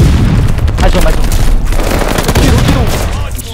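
Rapid gunfire and booming shots from a Call of Duty Vanguard ranked 4v4 match, loud and dense throughout, with a player talking over the shooting.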